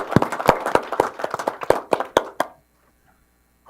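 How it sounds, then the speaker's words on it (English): Audience at a county board of supervisors meeting applauding two retiring deputies, a brief burst of sharp, close hand claps lasting a couple of seconds before cutting to near silence. "So I think both these gentlemen need a big round of applause."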